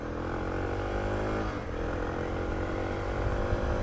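Suzuki DR650 motorcycle rolling across grass, its engine a steady, moderately loud hum close by with a brief dip partway through.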